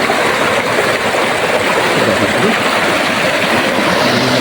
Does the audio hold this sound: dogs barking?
no